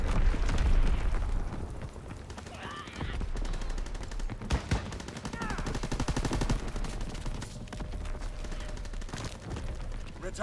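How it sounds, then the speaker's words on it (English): Mortar rounds fire and burst in a multiplayer video game match, a dense run of booms and rapid gunfire rattling close and loud over rumbling explosions, with brief voice cues mixed in. "Sending mortar rounds! Zone and sweep!"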